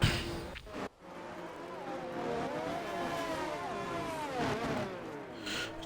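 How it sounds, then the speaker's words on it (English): Race car burnout in a racing video game, spinning the rear tyres to build heat before a start: a loud, steady engine roar with wavering revving pitch and tyre noise, continuous and close throughout after a brief dip near the start. "Big burnout there from Grumpy, getting all those heat, all that heat into his rear tyres for a good start"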